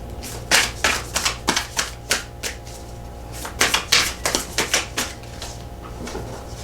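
Tarot cards are shuffled in a series of crisp, rapid riffling and snapping bursts, close and fairly loud, arriving in two irregular clusters with brief pauses between.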